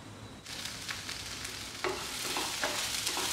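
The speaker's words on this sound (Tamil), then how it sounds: "இஞ்சி இது கொஞ்சம் நல்லா வதங்கட்டும். நல்லா வதங்குற வரைக்கும் அங்கிட்டு ஒரு 3 நிமிஷம் வரை கிண்டி விட்டுருங்க." Ginger sautés in a pan for butter chicken, a soft sizzle that grows brighter partway through, with a spoon scraping and stirring in occasional strokes and no one talking.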